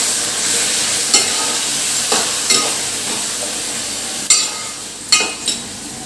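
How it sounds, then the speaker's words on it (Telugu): Chicken frying in a pan is being stirred, giving a loud, steady close sizzle with occasional sharp scrapes and clanks of a utensil against the pan, and no one speaking. "చికెన్ వేసేసుకున్నాను. కొంచెం కలుపుకోవాలి."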